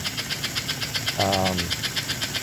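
An American Flyer 302 Atlantic S-gauge model locomotive runs with a steady, rapid ticking chuff. A brief buzzing motor whine swells in the middle and then fades.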